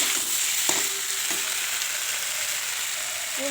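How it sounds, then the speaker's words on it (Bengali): Fish and cauliflower sizzle and fry in a pan, a steady loud hiss with a few soft clinks of stirring near the start. "মাছ ফুলকপিটা কষাকষি করছি"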